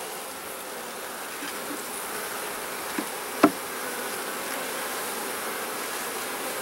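Honey bees drone steadily at close range while frames are shifted into a nuc box, their buzzing continuous throughout, broken by a sharp knock of wood near the middle.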